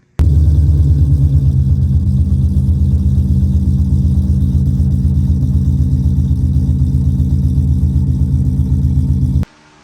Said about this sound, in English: We got the car pulled up into the stall under all the lights.